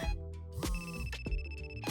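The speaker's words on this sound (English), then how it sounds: "Why won't these phones stop ringing?" Several office phones ringing, with overlapping electronic ringtone trills and bright tonal chirps sounding repeatedly and close by, with no one talking.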